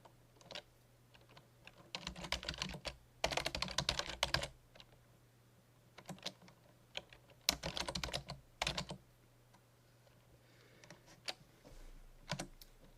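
Close typing on a computer keyboard while writing in LibreOffice Writer, keystrokes arriving in quick bursts separated by short pauses, over a faint steady hum.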